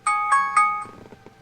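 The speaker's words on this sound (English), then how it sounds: "And there's the phone." A phone rings in a workshop with three quick bright electronic tones in a row, followed by a short softer patter, close and clear with no talking.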